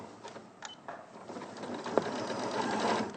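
A sewing machine runs steadily while top stitching all the way around a bag, a continuous mechanical whir with small clicks, fairly close and moderately loud with no talk.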